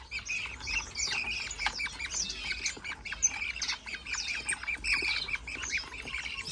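Budgies and finches squawk and chirp in an aviary with dense, overlapping calls, steady and fairly near throughout with no talking.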